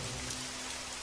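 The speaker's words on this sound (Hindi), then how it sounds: "अब बारिश तेज हो चुकी थी और रास्ता फिसलन भरा हो गया था।" Heavy rain falls in a dense, continuous hiss of drops pattering on surfaces, loud and steady with no voices.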